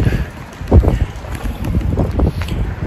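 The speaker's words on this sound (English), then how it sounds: "it's so windy." Strong wind buffets the microphone outdoors, a loud rumbling roar that gusts and swells in uneven waves for a few seconds with no talking.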